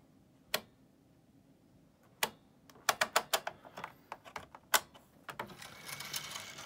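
Brother metal-bed punchcard knitting machine with the carriage pushed across, giving a burst of sharp mechanical clacks and ticks as the card advances, close and fairly quiet, no talk.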